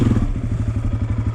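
A dirt bike engine revs hard as the clutch is dumped, giving a loud, close, throbbing mechanical roar with rapid steady pulsing and clattery texture and no voices.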